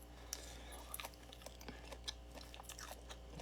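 Close, quiet chewing of food during a live mukbang stream, with soft crunchy clicks and wet mouth sounds repeating irregularly over a steady low hum.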